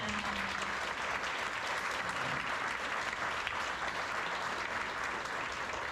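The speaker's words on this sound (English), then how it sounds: "Let's give them another applause right now." A roomful of people at an evening event in Tampa break into prolonged applause, a thick, continuous roar of clapping hands that stays level and full for several seconds.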